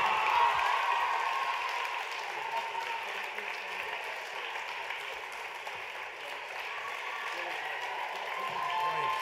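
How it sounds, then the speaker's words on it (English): Sustained applause from a gala audience at a national dance competition awards announcement, a dense, even wash of clapping from a large room that swells slightly at the end, with a voice faintly underneath. "Give him a round of applause."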